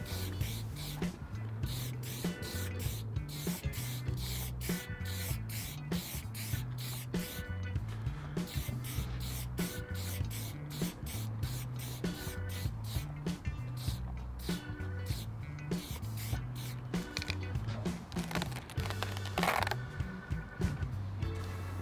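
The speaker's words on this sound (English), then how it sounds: "I'm going to paint this layer with a nice bone white." Spray paint hisses in repeated short bursts as a stencil layer gets a coat of bone white. The rhythmic pulses stand close and loud over a low mechanical hum, with no talking.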